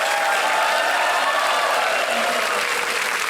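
A steady wash of applause comes from the studio audience of the quiz show Kaun Banega Crorepati, thick and unbroken, with faint tonal music running underneath.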